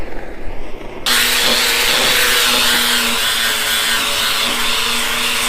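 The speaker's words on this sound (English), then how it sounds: "With a orbital sander and see what we can make it look like." An orbital sander starts abruptly after a second of faint background and then whirs steadily and loudly against a white pine bench, a broad continuous grinding hiss with a faint hum.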